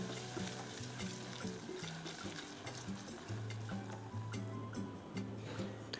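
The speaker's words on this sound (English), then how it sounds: "Give this about 1 to 2 minutes for the garlic and ginger to infuse its flavor into the oil." Garlic and ginger frying in oil, a steady close sizzle that holds at an even level throughout, with a faint tonal hum and light ticks underneath.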